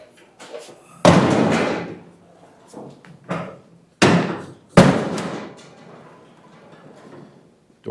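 A truck cab door slams shut and latches with a heavy metallic thud. Several sharp slams and knocks are close and loud, separated by quieter handling noises.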